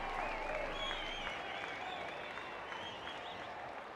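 A large, vocal crowd at a St George Illawarra Dragons vs Newcastle Knights rugby league match makes a steady, dense roar of noise and applause that holds throughout.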